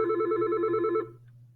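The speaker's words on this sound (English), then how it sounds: "the phone rang" A telephone ringing, one steady electronic ring lasting about a second and then stopping, loud and close, with a low hum continuing underneath.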